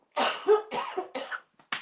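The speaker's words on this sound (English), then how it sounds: "Excuse me, I'm going to cough." Several harsh, loud coughs in quick succession, close up, followed by a short pause and one more cough.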